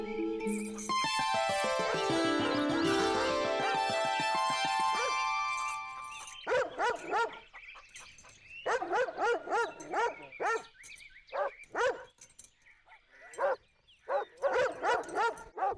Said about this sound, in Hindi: ये पागल कुत्ता भौंक रहा है